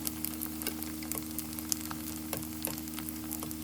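Fish meatballs sizzle and crackle steadily as they fry in hot oil, a close, continuous patter with scattered sharper pops and no talking.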